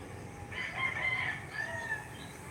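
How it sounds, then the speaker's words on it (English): A rooster crows faintly in the distance, one long drawn-out call rising over a steady low background hum. "Nah, roosters."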